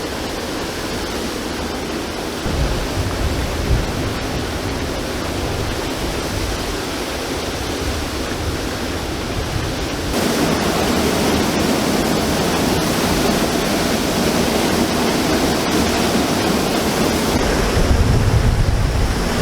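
The Gweebarra river rushes through a small rocky canyon past stepping stones, a loud, continuous roar of flowing water with some wind buffeting the microphone, swelling slightly partway through and with no talk.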